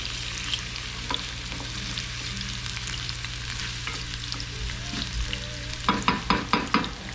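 Crappie fillets frying in a non-stick pan, with a steady sizzle under light stirring and scraping from a wooden ladle, then a burst of rhythmic clatter near the end, close and moderately loud with no voices.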